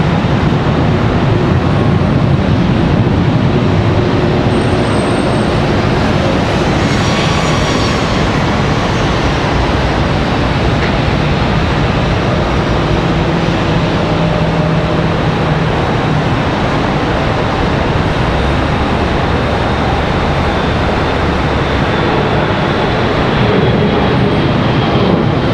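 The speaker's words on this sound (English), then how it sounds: "The next departure is going to be a CRJ 900 off to Albany." A CRJ 900 regional jet departs Charlotte Douglas for Albany, a continuous loud engine roar and rumble holding steady throughout with brief higher whistling tones, no voices present.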